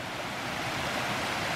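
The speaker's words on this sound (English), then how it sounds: "It's more of a cascading waterfall all the way down there" A cascading waterfall on a mountain stream in Shenandoah National Park roars as a steady, dense wash of rushing water, loud and continuous with no variation and no voices.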